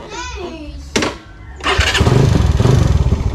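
Motorcycle engine cranking and catching, with a brief starter whine before the engine fires into a loud, close, rapidly thumping idle.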